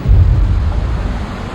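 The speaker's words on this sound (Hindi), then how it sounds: "ये क्या, तूफान आ गया?" A thunderstorm rolls over the sea with a loud, deep rumble of thunder and churning, roaring low noise, heavy at first and easing slightly over a brief moment.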